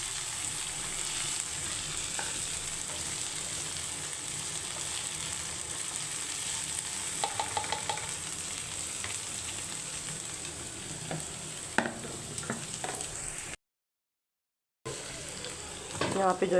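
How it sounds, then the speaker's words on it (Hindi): Okra (bhindi) fries in a home kitchen pan with a steady, close, moderate sizzle that carries on without a break, joined by a few soft clinks of stirring near the end. "पहले दोपहर में मैं ये भिंडी फ्राई कर लूँगी"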